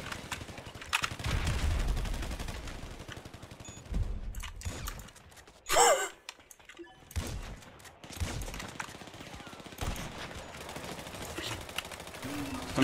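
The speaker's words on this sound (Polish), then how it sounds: "To mnie strzela." Gunfire erupts in Grand Theft Auto 5 Online, rapid bursts of shots at moderate distance, scattered across the scene with brief pauses and one sharper, louder burst midway, while a voice speaks intermittently.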